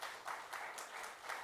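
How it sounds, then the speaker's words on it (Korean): Church congregation clapping during a Sunday service, a faint, distant patter of scattered hand claps in uneven bursts over a short stretch. "여러분 이럴 때 박수를 치는 거라니까요."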